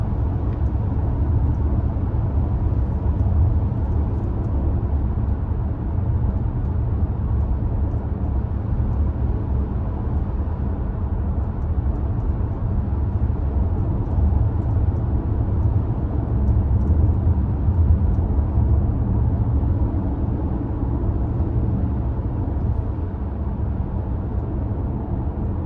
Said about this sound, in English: I'm driving 60 miles per hour right now if you want to compare the wind noise.